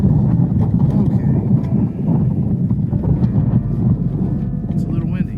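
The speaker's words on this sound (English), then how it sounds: "It's a little windy." Strong outdoor wind buffets the microphone at an overland campsite, a constant low rumble under a person talking throughout.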